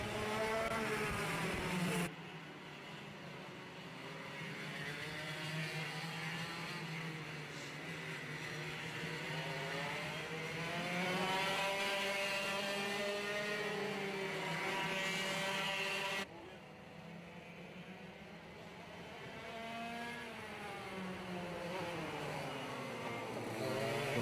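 Race cars at Llandow circuit head out on track at the start of a qualifying session, several engines droning and revving together with rising and falling pitch, steady and fairly loud throughout.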